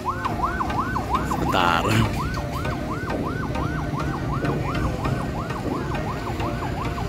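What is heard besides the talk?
ambulance siren passing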